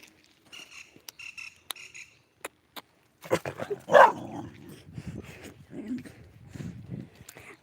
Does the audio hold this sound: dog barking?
yes